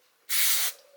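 One short, forceful hiss of aerosol spray onto a string trimmer's carburetor, about half a second long, starting and stopping abruptly against near silence.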